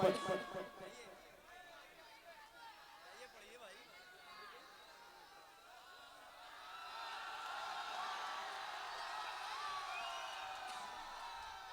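Noisy audience commotion at an Urdu mushaira poetry gathering, a babble of many overlapping voices, whoops and chatter that swells louder toward the end.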